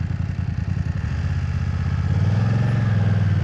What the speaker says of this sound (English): Oh, the engine note is really lovely.